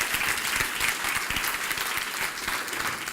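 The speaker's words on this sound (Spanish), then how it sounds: "Give a strong applause." Steady audience applause fills a church service, an even wash of many hands clapping at moderate distance, sustained without a break.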